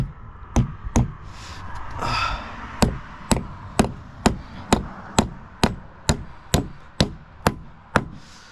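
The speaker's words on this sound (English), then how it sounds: "I'm just going to kind of hit with a hammer to kind of level out what I need to do here" A hammer strikes a wooden board to level it, about fifteen sharp, evenly spaced blows ringing close and loud, with a breathy sigh between early strikes.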